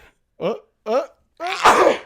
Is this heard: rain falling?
no